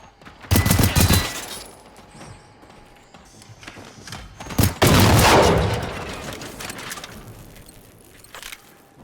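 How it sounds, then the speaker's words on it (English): Gunfire in Generation Zero: a loud burst of shots early on, a pause, then a second heavy volley with echoing crashes around the middle, and a last sharp shot near the end. "Stop shooting at me, please."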